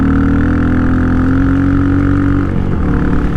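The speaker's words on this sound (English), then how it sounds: "Can you all hear that muffler? She's just singing." A Royal Enfield Meteor motorcycle with its exhaust muffler droning while it rides through gravel on Shinko tires. The engine note is close, loud and continuous, with a brief dip in pitch near the end.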